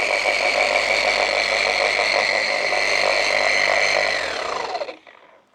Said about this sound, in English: I'm not pressing hard on the polisher, just letting it do its work.